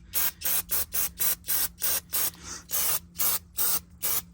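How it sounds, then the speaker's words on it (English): An aerosol can of brake cleaner hisses in a steady series of about ten short, even bursts, close and loud, with brief gaps between each spray, sprayed onto the rear brakes of a 2010 Infiniti FX35 during a pad and rotor change. "get some brake clean and just spray this down to get all the particles off"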